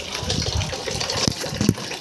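Water gushes steadily into a container, a loud churning splash with a few heavier bursts and no voices.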